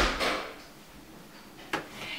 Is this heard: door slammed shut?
yes